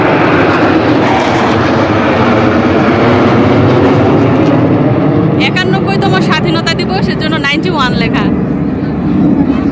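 Saudi Airlines aircraft performing at an Independence Day air show in Saudi Arabia, a steady, loud roar of jet engines filling the whole stretch, with crowd chatter and excited voices mixed in.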